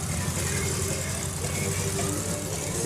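A clown school bus in a street parade sits idling, a steady low engine rumble filling the air alongside crowd noise and voices.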